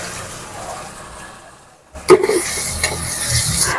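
Water splashes into a hot pan of ginger-garlic paste while cooking duck meat; after a near-silent stretch, a sudden hissing burst flares up and settles into a steady, fairly loud sizzle.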